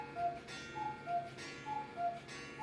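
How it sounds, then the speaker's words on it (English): Cuckoo clock ticking indoors, a soft, even tick-tock repeating about twice a second, faint and alone with no voices. "my cuckoo clock?"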